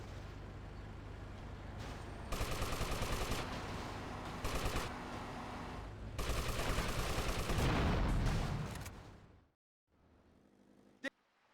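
Sustained automatic gunfire in the video game GTA Liberty City Stories, a dense rattling barrage in several long stretches, then a sudden stop, brief near-silence and one last sharp crack.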